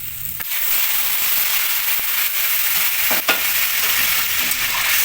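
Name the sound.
hot water poured into frying spices and rice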